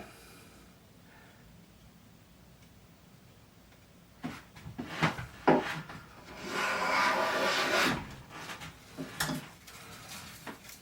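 Tuned Jorgensen 60 1/2 block plane shaving thin wood curls, several close scraping, rasping strokes in an uneven rhythm after a quiet start, with one longer smooth pass in the middle.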